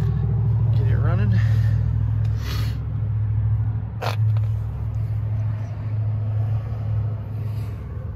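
2013 Ram 3500 truck engine idling after being started, a low steady rumble running throughout with a short sharp knock partway, close by and moderately loud.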